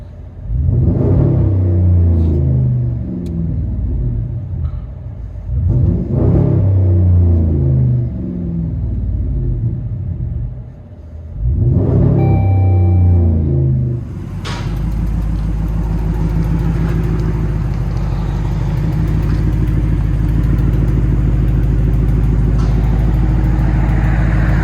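Loud, steady V8 exhaust of a 2012 RAM 1500 pickup with a 5.7L HEMI, true dual exhaust and muffler delete, heard from inside the cab: three deep revving surges with short gaps, then a continuous heavy low rumble as it drives.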